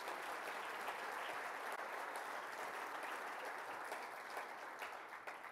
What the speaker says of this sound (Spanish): Creo que eso se merece un fuerte aplauso.